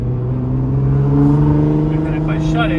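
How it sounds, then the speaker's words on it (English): A Nissan R35 GTR with full bolt-ons, E85 and a valved exhaust held open revs with a loud, steady, rising engine tone, close by and continuous throughout. "this is with the exhaust open right now. Got a nice, pretty loud tone to it."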